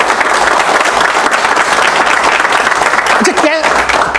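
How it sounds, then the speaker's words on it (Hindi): Audience at a Vestige network business training event giving loud, sustained applause, dense clapping filling the room, with a brief voice breaking in near the end. "चारों के लिए एक बार जोरदार ताली बजाओ।"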